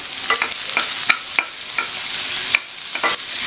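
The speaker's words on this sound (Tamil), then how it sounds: "சேர்த்துட்டு நல்லா எண்ணெயில் கொஞ்சம் வதக்கிக்கங்க" Radish pieces sauté in hot oil with a steady sizzle, broken by sharp clacks and scrapes as they are stirred in the pan at a loose, irregular pace.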